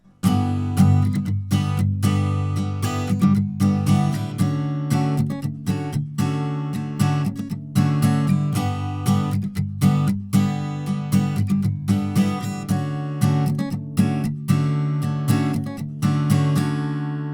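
Fast palm-muted guitar strumming of America's "Ventura Highway" chugs along in a steady, driving rhythm, close and loud, with no voices throughout.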